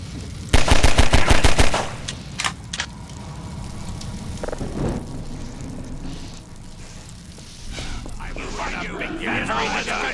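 Rapid automatic gunfire from the Half-Life 2 video game rattles in a loud burst, then scattered single shots and game ambience continue with faint voices underneath.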